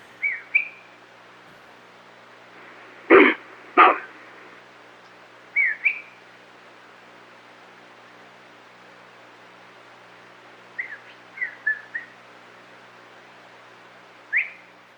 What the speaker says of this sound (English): that's a person whistling